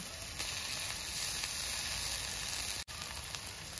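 Ginger paste sizzles in a pan of softened onion and garlic paste for pav bhaji, a steady close hiss with one brief dropout near the end.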